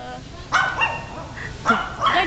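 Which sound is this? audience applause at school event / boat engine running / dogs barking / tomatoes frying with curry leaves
dogs barking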